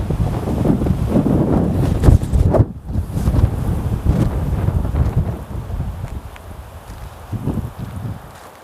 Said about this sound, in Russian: В то же время ветер сильный.